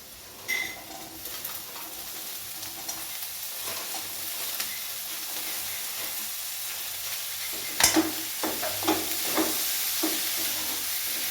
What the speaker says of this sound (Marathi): हे फ्राय करून घ्यायचं आहे, हलवून घ्यायचं आहे